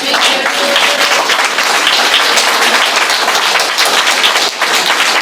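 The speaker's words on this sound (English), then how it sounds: "Rebecca Riley, I'd ask you to keep the clapping to minimum so people can hear me." Audience at a school board meeting claps continuously, a dense, loud, even burst of many hands lasting several seconds with no talk over it.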